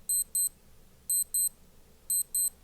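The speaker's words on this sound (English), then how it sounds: "this watch has sufficient volume to wake me up in the morning" Alarm of a Casio G-Shock GA2100 watch: three pairs of sharp, high electronic beeps repeating about once a second, close and clear over a quiet background.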